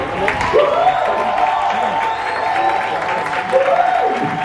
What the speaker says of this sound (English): Please, everyone, a beautiful round of applause.